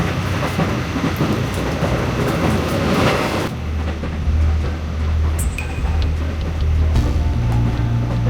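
Train running on rails from Mashhad to Tehran, a loud continuous rumble with rattling, clattering wheel noise and low hum inside the carriage, with no talking.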